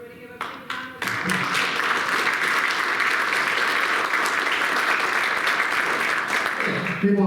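Sustained applause from an audience at a community talk on property taxes, loud and dense for about six seconds after a couple of initial claps, fading at the end.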